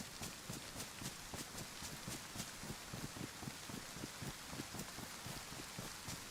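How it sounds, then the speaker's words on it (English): Steady rain in DayZ falls as a broad, constant hiss, with faint scattered drops tapping through it and no voices. "Oh, it's raining."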